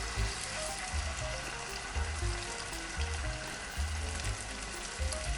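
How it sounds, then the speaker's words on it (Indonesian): Chicken pan-sears in a little oil, giving a dense, steady frying hiss with low bubbling pulses beneath, constant and close, with no voices. "Nah ini kita pensir tiap sisi itu beberapa menit ya, sampai dia itu mengeluarkan warnanya."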